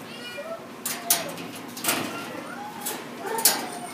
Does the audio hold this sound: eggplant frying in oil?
no